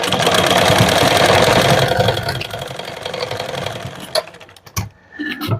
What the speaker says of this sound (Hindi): अब यहाँ पर एक बार फिर से हम सिलाई लगा के अच्छे से लॉक कर देंगे।